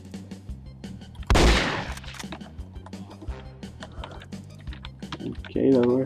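A single loud sniper rifle shot from No One Lives Forever 2 cracks out early, followed by a later, weaker burst amid low game ambience, with someone talking over much of it.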